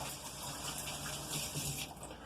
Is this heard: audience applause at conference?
no